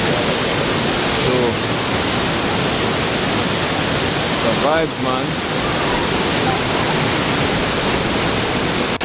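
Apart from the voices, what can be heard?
waterfall at Reggae Falls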